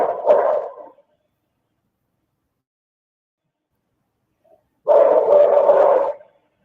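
A dog barks in two separate muffled bursts, the first brief and the second longer, with dead silence between them.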